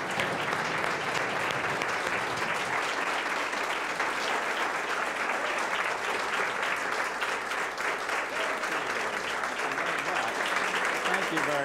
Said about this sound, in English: for that standing ovation